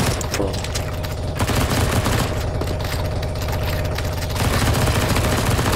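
Dense rapid gunfire from many weapons in a CS:GO zombie escape match, near-continuous automatic bursts layered over a low rumble, loud and sustained.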